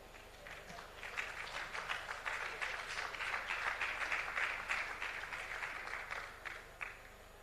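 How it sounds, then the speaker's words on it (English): A conference audience claps during a check presentation to a bank, a fairly quiet but steady ripple of many hands that swells and then tapers off near the end. "A round of applause"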